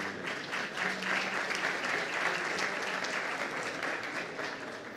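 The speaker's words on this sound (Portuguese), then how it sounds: "E uma salva de palmas, gente, para o Jorge." Applause from a conference audience at a construction industry panel, a dense, sustained patter of many hands, fairly distant and soft, steady from start to finish with a slight fade.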